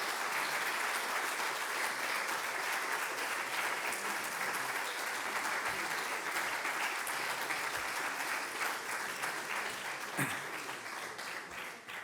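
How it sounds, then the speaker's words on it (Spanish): A lecture audience applauds with dense, sustained clapping that fills the room steadily and fades slightly toward the end, with no talking. "Muchas gracias por vuestros generosos aplausos"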